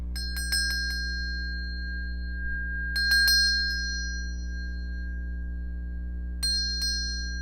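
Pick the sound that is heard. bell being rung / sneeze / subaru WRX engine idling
bell being rung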